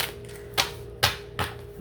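Moonology oracle cards are shuffled in three crisp riffles, each a short bright snap about half a second apart, close and alone over a faint steady hum.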